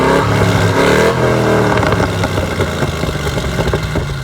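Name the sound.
Chevy SS engine exhaust note revving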